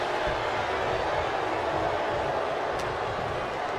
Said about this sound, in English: You hear this capacity crowd booing.